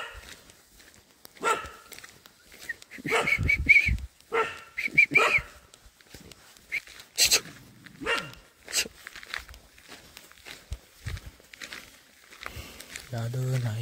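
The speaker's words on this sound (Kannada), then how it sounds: "ಅದು ನಾಯಿ ಕೂಗ್ತಾ ಇದೆ ಅಲ್ಲಿ." At night outdoors, a dog barks in short bursts somewhere nearby, mixed in with a person talking and some shuffling footsteps.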